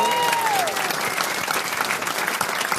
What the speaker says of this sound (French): Le public vous applaudit en masse.